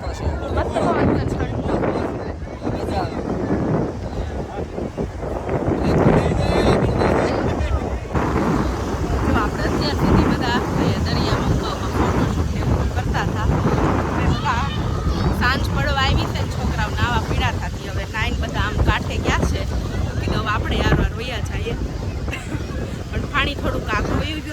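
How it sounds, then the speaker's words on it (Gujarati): Strong wind buffets the microphone on Kuda beach, a continuous loud roar under a person talking throughout, with faint surf mixed in. "પવન કેટલો સરસ મસ્ત પવન છે"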